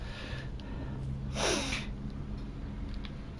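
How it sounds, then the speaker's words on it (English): A single short sniff or snort close to the microphone, brief and moderately loud over a quiet room hum during a Skyrim gaming session. "Oh, don't start sniffing."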